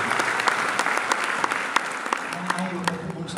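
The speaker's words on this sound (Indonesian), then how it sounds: "Tepuk tangan dulu yang paling mulia." Church congregation applauding during a sermon, a dense steady wash of clapping with sharper individual claps poking through and a faint voice underneath near the end.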